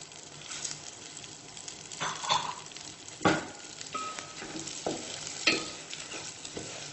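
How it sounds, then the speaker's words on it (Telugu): Flattened rice (poha) frying in melted ghee over a slow flame while being stirred: a continuous close sizzle broken by scraping stir strokes, with no voices. "నెయ్యి మెల్ట్ అయిపోయింది, అటుకులు యాడ్ చేస్తున్నాను. స్లో ఫ్లేమ్లో పెట్టుకొని ఫ్రై చేసుకోవాలి."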